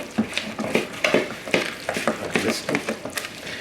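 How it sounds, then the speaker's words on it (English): Ground meat being mixed by hand with orange zest in a home kitchen, soft repeated squelching and slapping strokes in an irregular rhythm, close and moderately loud. "So we're just going to mix all this together"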